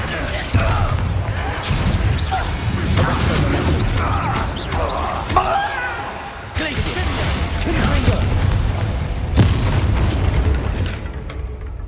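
A Bombarda blast spell in Hogwarts Legacy sets off a sustained run of loud booming explosions and crashing debris with strong low rumble throughout, and a voice is heard among the blasts.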